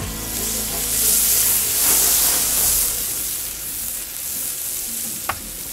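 Blended garlic fries in a pan for paella, giving a loud, steady sizzle with stirring scrapes close by and a sharp clink near the end.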